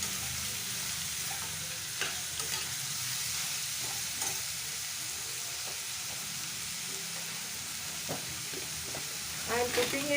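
Steady crackling sizzle of keema frying in a pan with rock salt, continuous and close, with occasional clinks from stirring.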